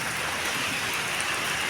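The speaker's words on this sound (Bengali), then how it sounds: "দেখতেই পাচ্ছেন প্রচণ্ড ঝড় এবং বৃষ্টিতে গাছগুলো নড়ছে।" Heavy storm rain pours outside a front door as wind sways the trees, a constant close wash of falling water with a dense, unbroken hiss and no speech.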